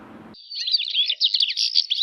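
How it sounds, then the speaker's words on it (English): Bright, rapid bird chirps and tweets in a continuous high-pitched stream, close and clear, following a brief low burst of another sound at the very start. "For many people, bird chirps are nature's soundtrack for their morning."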